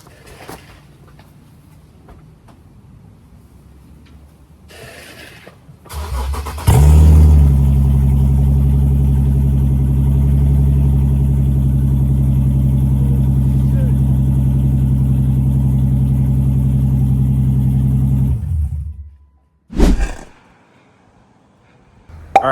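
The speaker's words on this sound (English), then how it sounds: "everybody knows that you have to start your car with no exhaust whatsoever" An Infiniti Q50 engine started with no exhaust fitted, firing up abruptly and running loud and raw with throaty revving for about twelve seconds before cutting off, followed by a brief burst and quiet.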